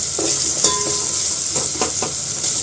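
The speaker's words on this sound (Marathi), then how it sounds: "याला पुन्हा 2 मिनिटं आपण तेलामध्ये परतून घेऊयात" Spices frying in oil for dal palak sizzle loudly at close range, with stirring scrapes and soft clinks of a spoon against the pan coming in short bursts.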